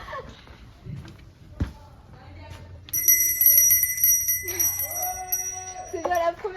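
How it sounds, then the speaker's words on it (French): A bell rings out after a pole bar training element, its bright metallic tone sustained and layered, following a sharp thump and softer movement sounds, with a brief voice near the end. "C'est pas la première fois que je sonne la cloche de ma vie."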